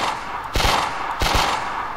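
Gunshots in a third-person shooter game under test, two sharp close reports about half a second apart, each with a brief echoing tail over a steady background hiss.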